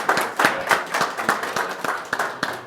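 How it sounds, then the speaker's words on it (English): A small audience at a county board meeting claps in a steady, brisk rhythm of separate hand claps for a few seconds. "One more round of applause, please."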